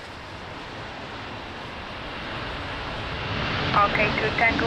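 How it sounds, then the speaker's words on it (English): A Delta Airlines airplane taking off at Lisbon Airport in rain, a broad, steady jet roar rising gradually in loudness, with wind and rain noise and radio voices over it. "next takeoff, Delta Airlines, already rolling."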